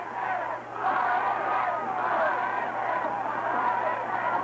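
Football playoff crowd at a 1991 high school game, a steady wash of cheering and shouting voices that swells after a brief dip and holds loud and continuous throughout.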